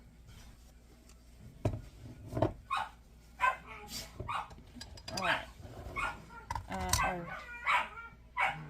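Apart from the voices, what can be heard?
dogs barking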